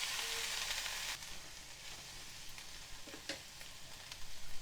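Boiled cauliflower florets fry in a pan for a Telugu-style gobi fry, giving a steady, close sizzle with a few sharp crackles and pops toward the end. No voices.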